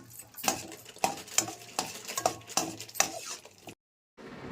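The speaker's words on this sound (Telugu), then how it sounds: "నెయ్యి కాగిన తర్వాత కొద్దిగా జీడిపప్పులు వేసుకొని వేపుకుందామండి." Cashews fry in hot ghee while a spoon scrapes and stirs the pan in quick repeated strokes over a soft sizzle, close and fairly quiet, ending in a brief silence.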